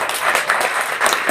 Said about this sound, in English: So let's give all these ladies a round of applause.